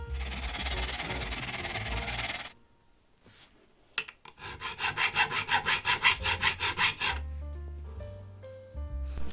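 Rapid rasping strokes on metal guitar frets of an SX Les Paul-style guitar, first a continuous grinding burst, then a rhythmic series of back-and-forth filing passes, close and moderately loud.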